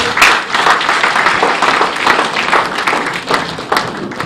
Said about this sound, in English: I would like to indulge this audience to please give our chairman a round of applause.